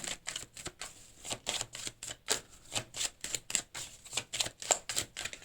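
A tarot deck is handled to draw a card, with quick repeated papery flicks and riffles in an uneven rhythm. The sound is close and quiet, with no talking.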